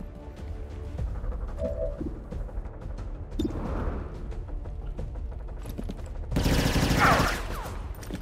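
Rapid blaster and gunfire bursts from a Star Wars modded XCOM 2 battle, clattering steadily at moderate level, then swelling into a loud, dense volley near the end.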